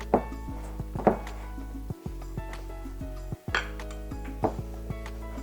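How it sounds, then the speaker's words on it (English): Egg whites being worked into almond flour in a bowl for macarons, a series of scattered clinks and knocks of a utensil against the bowl with soft scraping between them, close and fairly quiet. "you almost have to kind of smash the egg whites into the flour"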